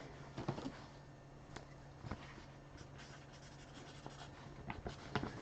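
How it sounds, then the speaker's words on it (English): Pen or marker scratching across paper by hand, a few quiet irregular strokes at close range against a steady background hum, no talking. "let me write this down"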